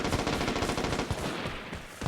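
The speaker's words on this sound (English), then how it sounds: "I almost guarantee you that these gunshots are inside that cavern" Rapid gunfire inside a cavern in the video game Vigor, a fast burst of many shots in close succession, loud and reverberant, with no talk over it.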